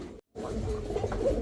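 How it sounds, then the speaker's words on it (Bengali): Yellow Flegja pigeons cooing close by in a pigeon sale pen: low, throaty coos that continue after a brief moment of silence. "মাশাআল্লাহ, এক জোড়া হলুদ ফ্লেজা কবুতর"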